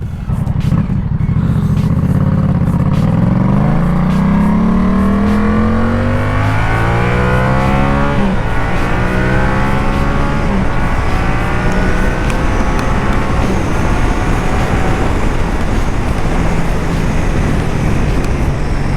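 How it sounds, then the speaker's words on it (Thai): A Yamaha MT-07 motorcycle ridden on the road, its engine rising in pitch as it accelerates hard through the revs, then settling into a loud steady drone mixed with strong wind rush. "รถเขาแรงจริง ศูนย์เจ็ดนะ เป็นรถที่ ไม่ต้องรอรอบเลยนะ คือแรงแต่รอบต้นแล้วนะ"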